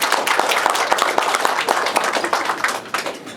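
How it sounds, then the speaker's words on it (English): A round of applause at a Christmas reception in the House of Lords, many hands clapping in a close, steady patter with a few sharp individual claps standing out, continuing throughout. "I would like to give them a big round of applause."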